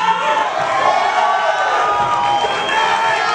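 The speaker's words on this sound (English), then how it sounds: "A lot of love, as expected, from the Texas crowd." A Texas crowd at a boxing press conference cheering and whooping in a loud, sustained roar that fills the whole short stretch.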